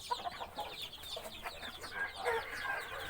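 A young fighting-cock chick, offspring of a breeding rooster, makes soft clucks and chirps close by, with a steady background of farmyard noise.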